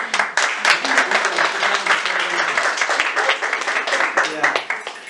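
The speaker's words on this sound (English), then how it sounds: "Another hand clap." Audience clapping hands in applause at a cancer awareness talk at a women's hospital and fertility centre in Bukoto, a dense, fairly loud burst of many overlapping claps sustained throughout.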